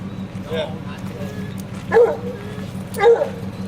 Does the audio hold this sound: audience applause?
no